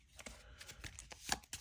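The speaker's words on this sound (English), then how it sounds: "All right, we'll shuffle these up." Marvel Champions card game cards are shuffled by hand in a quick burst of soft riffling and snapping card sounds, close and fairly quiet, with no talking.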